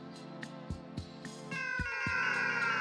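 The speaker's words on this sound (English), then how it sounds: "it still makes the meow sound when you shoot" A cat-like meow sound effect plays repeatedly as shots are fired in an indie video game under development, several short clear meows in a quick rhythm followed by a sustained tonal game sound.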